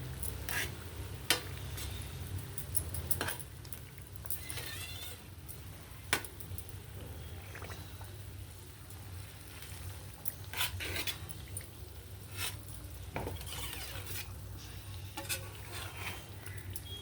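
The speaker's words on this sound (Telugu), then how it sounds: "నెయ్యితో అలా ఉడుకుతుంది కదా, ఆ నెయ్యిలో అలా ఉడికితే బాగుంటుంది." A dish cooking in ghee sizzles steadily at close range while a utensil stirs and scrapes the pan in irregular bursts, with a low hum running underneath.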